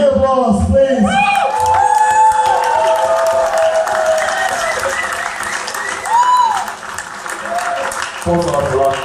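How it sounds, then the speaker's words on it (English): An audience at a hacker conference talk breaks into loud, sustained applause and cheering that fills the room, with shouts and voices mixed in and a speaker's voice returning at the end. "So give applause, please."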